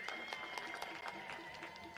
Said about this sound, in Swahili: makofi kwao tafadhali